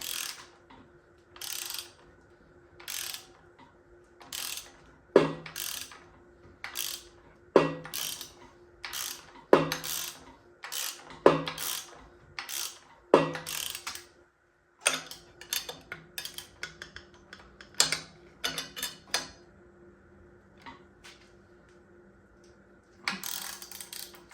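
A ratchet wrench tightens bolts during a 20-inch lift kit install on a 2002 Ford F250, sounding as short bursts of crisp, rapid clicking with irregular gaps between them.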